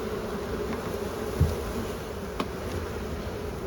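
Honey bees busy storing honey in a queenless nuc hive hum in a dense, steady drone close by, with a couple of soft knocks against the hive.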